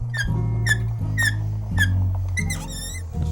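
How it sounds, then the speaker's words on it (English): Repeated high squeaks from the moving mechanism of a hand-built wooden automaton figure, about six rhythmic squeals over a low mechanical drone, close and clear. "we've got a squeak or two."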